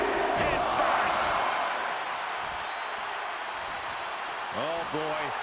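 Crowd noise from a WWE 2K25 wrestling arena, a steady roaring wash with a brief cheer swell early on, running under a commentator's continuous voice.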